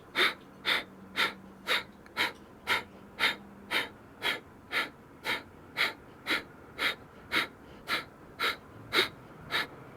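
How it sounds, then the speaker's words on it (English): Kapalabhati yoga breathing during a vinyasa session: about twenty sharp, forceful exhales through the nose in a steady, even rhythm, close and clear, with no talking. "So you don't have to do Kapalabhati, but if you'd like, it's a forced exhale."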